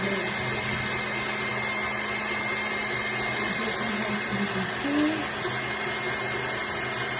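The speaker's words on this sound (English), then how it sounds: "I'm whipping the eggs and adding the sugar" An electric mixer whips eggs with sugar for an orange semolina cake, giving a loud, steady motor whine that holds unbroken throughout, with a faint voice briefly under it.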